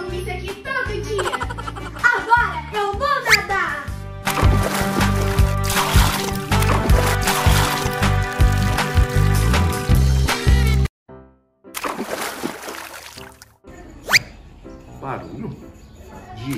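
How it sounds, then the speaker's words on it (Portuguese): Water sloshes and splashes in a small pool set up on a bed in a bedroom in a children's cartoon, loud bursts of splashing mixed with music and effects, with brief quiet gaps near the end. "Barulho de água no quarto do Henrique?"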